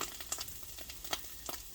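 Vegetables for cheese steak sandwiches cook in a pan with a faint, steady sizzle, broken by a few soft, irregular pops and crackles; nobody speaks.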